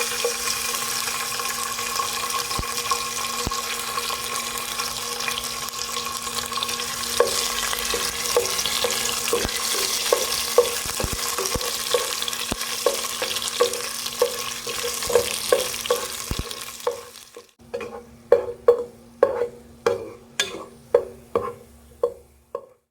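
Raisins and cashews sizzle steadily in hot ghee in a pot, a continuous frying hiss for most of the stretch, then it gives way to a series of sharp, spaced knocks and clatters near the end.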